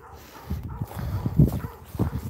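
A dog barks a few times outdoors, close and fairly loud, with short woofs spread irregularly across the moment.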